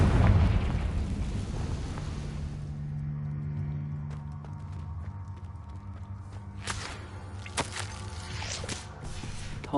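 A Confringo fire-blast spell explodes in the Hogwarts Legacy video game: a loud, rumbling blast opens the moment, then fades into a quieter tail with scattered crackles and light pops.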